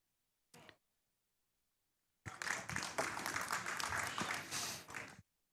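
A burst of applause from a small crowd rises after a good shot at a lawn bowls 4-a-side challenge final, following a brief knock and a long quiet gap, then lasting about three seconds before stopping abruptly.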